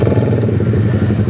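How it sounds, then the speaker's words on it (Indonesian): A Suzuki GSX-R150 motorcycle fitted with an aftermarket exhaust idles close by. Its low engine throb is loud and steady throughout, with some mechanical clatter and no talk. "Jadi ini tuh motor yang udah diganti knalpotnya sendiri ya."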